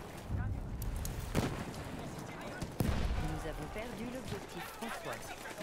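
Battlefield 1 battle with dense gunfire and explosive bangs, two sharp loud blasts standing out over a constant rumbling din, while someone talks over the fighting.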